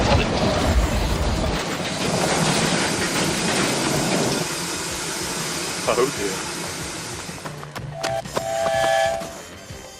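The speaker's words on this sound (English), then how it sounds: "I thought I heard a train." A train rumbles past close by, loud at first and gradually fading, with a brief high horn-like tone near the end and a voice speaking briefly.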